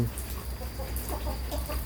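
Chickens cluck softly and intermittently at a moderate distance over a steady background hum.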